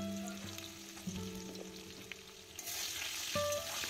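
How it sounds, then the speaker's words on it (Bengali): Cut potatoes frying in oil with black cumin seeds and green chillies, stirred in a pan: a steady close sizzle with scraping stir sounds, no talking. "আলুগুলো এখন নাড়াচাড়া করে"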